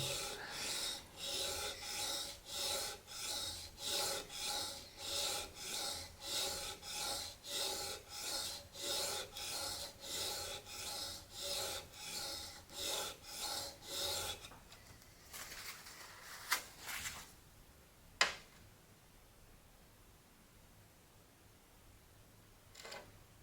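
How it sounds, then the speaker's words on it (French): Finishing sharpening of a Veritas low-angle block plane blade, about two dozen rhythmic back-and-forth rasping strokes on a stone, close and steady, then quieter handling and a couple of sharp knocks. "je suis sur de l'affûtage de finition"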